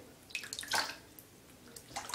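Water splashing and dripping in short bursts as it is poured over a guinea pig during a bath, fairly faint and close.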